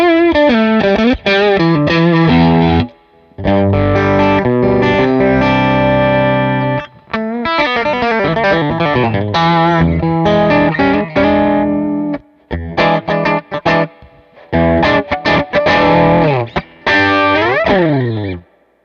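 Electric guitar played through a Li'l China overdrive pedal, loud and driven, with sustained chords and single-note lines broken by short pauses, bright harmonic-rich tone with slight chorus-like shimmer, no talking.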